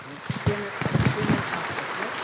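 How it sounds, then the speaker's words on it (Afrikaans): Morning church service congregation applauding a member's birthday, a short burst of clapping heard beneath a voice speaking, fairly soft and close. "Ons gee vir haar groot hande klap."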